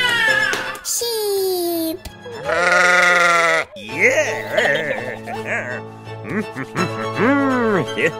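Several loud, quavering sheep bleats from a toy, one after another, close by, with other animal-like cries and brief pauses between them.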